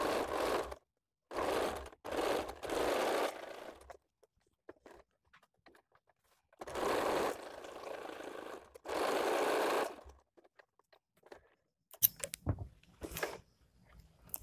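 A sewing machine stitches a hook strip on a bra-cut blouse with a small pleat at the joint, whirring in several runs of steady chatter separated by quiet gaps, then brief handling clicks and rustles.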